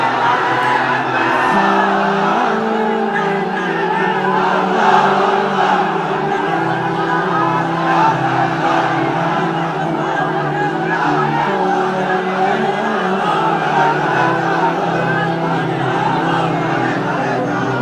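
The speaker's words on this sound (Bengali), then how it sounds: "তাকবীর দেন তো একজন আওয়াজ করে।" A large crowd at an outdoor Islamic sermon chants takbir, a sustained roar of many voices shouting together, loud and continuous throughout.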